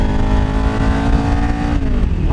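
A motorcycle engine revs up loudly and close while the rider works up through the gears toward fourth, its whining pitch climbing and then dipping at the shift.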